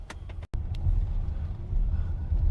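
A Tesla Model X Plaid rolls through a left turn at low speed, giving a soft, steady road and cabin rumble with a brief click near the start.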